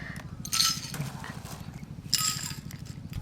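Crispy fried jhuri bhaja snack is tipped onto plates, giving two short bursts of light, dry rattling and clinking over a quiet indoor background.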